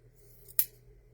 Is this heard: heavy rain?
no